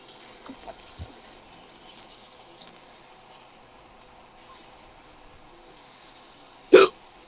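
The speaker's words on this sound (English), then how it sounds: "fuck, these hiccups." A single loud hiccup from a person near the end, after a stretch of faint background noise and small clicks during a video game session.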